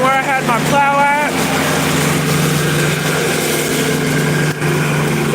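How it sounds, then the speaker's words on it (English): A Kubota BX2380 compact tractor mows grass nearby, its steady engine drone running throughout at a constant, fairly loud level, while a voice speaks over it. "So, that's the tractor he's using to do the mowing with."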